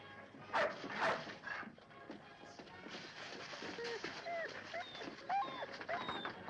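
A dog barks in short bursts and then whimpers and yips in high, thin whines, heard close in an indoor setting with some background clatter.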